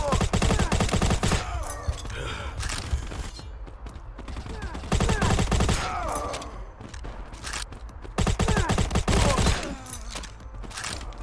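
Bursts of rapid automatic gunfire from a mobile shooter game, three long crackling volleys separated by short pauses, loud and close, with a voice talking in between.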